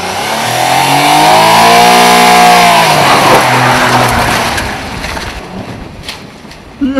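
A Daewoo Tico pulls away and accelerates hard, its small engine revving upward in rising tones, loud and close, then easing off and fading near the end.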